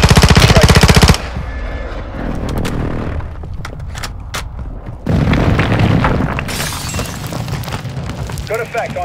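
An airstrike in the Call of Duty DMZ video game, with loud bursts of rapid gunfire followed by heavy booming explosions and rumbling blasts hitting the target, plus a voice speaking in between.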